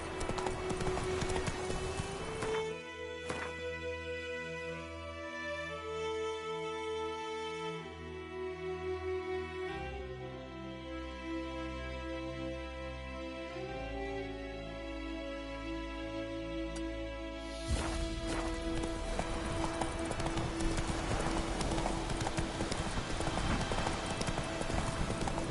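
Horse hooves clip-clop at a steady gallop in The Witcher 3 open-world game, rhythmic and close, running over layered game music throughout.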